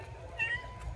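A FurReal Friends toy cat gives a single short, faint electronic meow midway through, set against a quiet low background hum.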